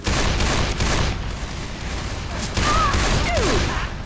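Sustained gunfire in the Left 4 Dead 2 zombie shooter, a dense continuous fusillade of rapid shots filling the whole stretch with no pause, loud and close, with brief whistling tones near the end.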